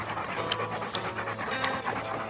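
A dog pants steadily and rapidly up close, a quick rhythmic huffing with a few brief sharper breaths mixed in.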